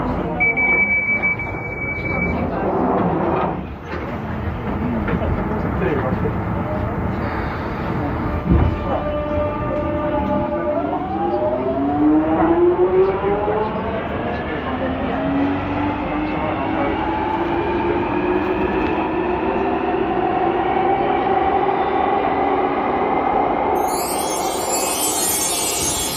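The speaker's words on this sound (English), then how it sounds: "I'm at London Bridge Station" Busy platform ambience at London Bridge Station in London, with a steady crowd murmur, a brief high electronic tone at the start, and a train's rising whine as it pulls away, ending with a burst of brake or wheel screech.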